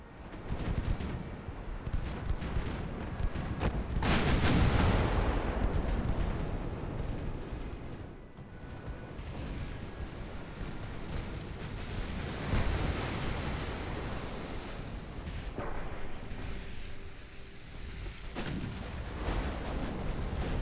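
Battleship main guns firing in Ultimate Admiral: Dreadnoughts, deep booming blasts with a big roaring swell in the middle, set against a continuous ocean-like rumble, with no voices.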